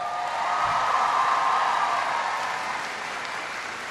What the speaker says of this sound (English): Give Teresa a big round of applause.